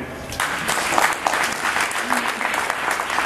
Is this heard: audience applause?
yes